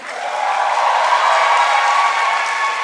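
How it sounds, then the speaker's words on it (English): Audience at a runway showdown event applauds for the Department of Education, a dense, steady round of clapping with some cheering that holds evenly for a few seconds. "one more round of applause for the Department of Education"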